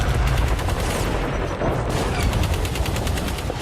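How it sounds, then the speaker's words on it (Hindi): Enemy troops open indiscriminate gunfire on a strike team in a scene from the 2019 film Uri, a loud, unbroken barrage of rapid automatic shots overlapping throughout with no speech. "स्ट्राइक टीम 1 पर दुश्मनों ने अंधाधुंध फायरिंग शुरू कर दी।"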